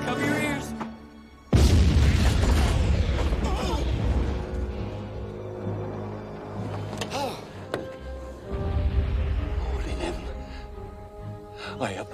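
A cannon fires one sudden, loud, deep boom, followed by a lingering rumble, while people talk and shout around it before and after.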